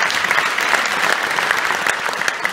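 A theatre audience applauds steadily after a satirical stage performance, many hands clapping densely and evenly throughout with no break.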